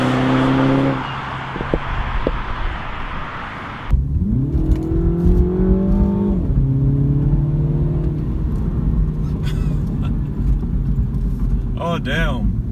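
A 2017 Mini Cooper S engine revs and accelerates, a loud rising drone that climbs, holds and drops as the car pulls away, with someone talking over it from inside the car.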